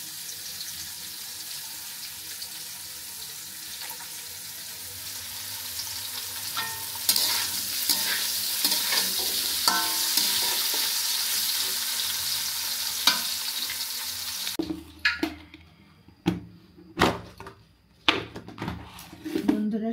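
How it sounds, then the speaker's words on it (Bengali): Eggplant chops and drumstick stems fry in a pan with a steady, hissing sizzle, then stirring and utensil clatter break in over the quieter oil near the end. "সজনে ডাঁটা ভাজি করতেছি, আর এদিকে এই যে আমি বেগুনের চপ ভাজি করছি।"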